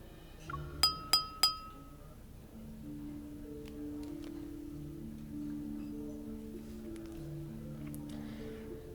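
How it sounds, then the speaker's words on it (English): Three bright, ringing glass clinks in quick succession at a banquet aboard a ship in the game Love and Deepspace, followed by a sustained musical soundtrack. "the crisp sound of clinking glasses captures everyone's attention"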